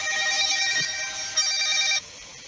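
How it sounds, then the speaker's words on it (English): A telephone rings with a bright electronic trilling tone, close and steady for about two seconds before cutting off abruptly. "Oh, there's the phone."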